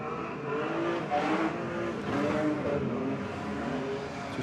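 Race cars lap a speedway track in wet, slippery conditions, their engines surging and fading at a moderate distance in a steady blur with no talk.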